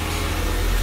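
Honda Daily D-series engine idling with a factory exhaust, a steady low rumble with a faint whine from the release bearing, loud and close with no talk.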